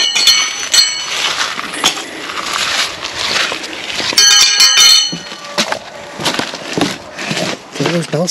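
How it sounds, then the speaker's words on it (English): Bells ring with bright, clinking metallic strikes outdoors at a landscaping job building a radius brick wall, scattered hits recurring through the clip amid rustling and work noise, with some talk. "Do those bells sound a bit ominous?"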